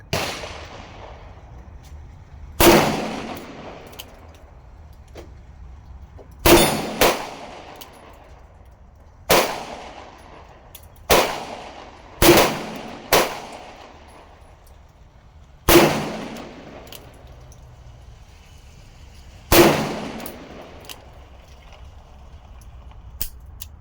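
A Colt Kodiak .44 Magnum revolver fires seven loud, single shots spaced a few seconds apart, each a sharp crack trailing into a short outdoor echo, with no talking between them.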